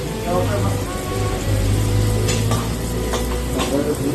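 Food stirred in a pan at a fried chicken karinderya in Baguio City, with steady sizzling and scraping under continuous talk and busy kitchen noise.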